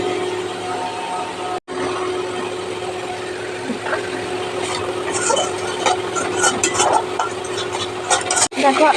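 Whole spices (cloves, bay leaf, cardamom) and a ground spice paste frying in oil in a pan, producing a steady sizzle with a background hum that grows busier and crackling toward the end, with two brief dropouts.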